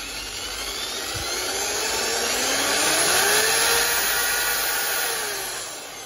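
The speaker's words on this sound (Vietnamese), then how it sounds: "khoan gỗ hai chức năng nhé" An electric 220V two-function wood drill with a 13 mm chuck and reversing switch runs alone in a continuous high-pitched whine, its motor pitch rising and falling slightly as it spins up and holds speed.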